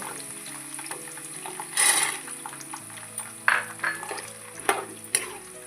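Peanuts drop into hot oil in a pan for a North Karnataka-style crispy paper poha snack, with a soft steady sizzle, a few louder bursts and clinks of a spoon stirring, close and without talk.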